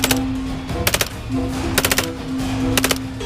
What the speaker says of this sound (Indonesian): lihat, yang ini tembak-tembakan M16